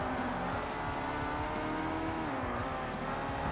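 A race car in Forza Motorsport accelerating hard, its engine holding a loud, continuous roaring tone that dips and climbs again as it pulls through the gears, with no voices.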